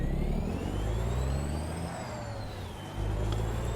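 A Freightliner truck with a Caterpillar engine drones steadily at close range, a deep constant rumble with rising and falling whine, and a brief hiss of air brakes near the end.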